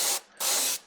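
An airbrush with a 0.3 needle sprays paint onto a custom jerkbait fishing lure, giving two short, close hissing bursts and the start of a third, separated by brief pauses.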